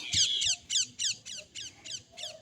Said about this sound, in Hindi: तोता बोल रहा था